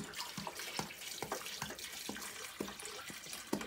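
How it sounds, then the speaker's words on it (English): Spring water poured from a container into a cooking pot to cover potatoes, a steady splashing pour with irregular gurgles and plops throughout, close and fairly quiet. "So I'm just going to add water to my pot."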